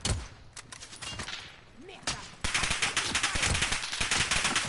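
Bursts of automatic gunfire in Call of Duty Warzone on Rebirth Island, scattered shots at first and then dense sustained fire, with a voice speaking over the game.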